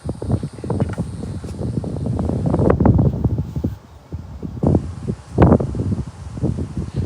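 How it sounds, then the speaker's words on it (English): Gusty outdoor wind buffeting and rushing past the microphone, with rustling bursts rising and falling in loud waves and a brief lull midway, no talking. "I don't know what's up with this wind."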